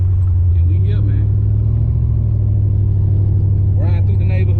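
An LS-swapped Chevrolet Monte Carlo SS, tuned, cruising through a neighborhood with a loud, steady low engine rumble from inside the cabin, and brief higher squeaks or chirps over the drone.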